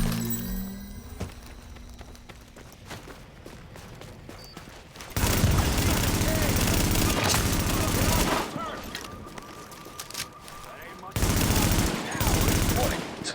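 Heavy bursts of gunfire in The Division, aimed at supplies: sustained automatic volleys separated by short pauses, loud and close, with quieter ambient game sound between them.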